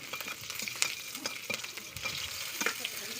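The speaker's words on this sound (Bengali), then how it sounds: "এই তেলে ফোড়ন দেবো শুধু হচ্ছে কি লঙ্কা আর রসুন দিয়ে ভালো করে একটু নাড়াচাড়া করে নিতে হবে।" Chilli and garlic fry in oil in a kadai as a tempering, crackling up close while a spatula stirs and scrapes in quick, irregular strokes.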